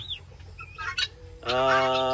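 Guinea fowl and chickens on a farm in the morning: a few short, scattered clucks and chirps, then a loud, harsh, buzzing squawk that holds steady at the end, with nothing else in the foreground.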